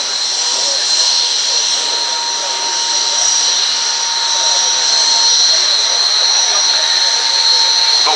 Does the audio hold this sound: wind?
no